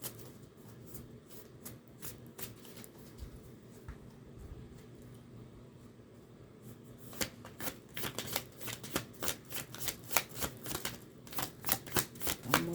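Tarot cards are shuffled close up, a soft continuous riffle that grows into louder, rhythmic flicks and snaps in the second half, with no voices.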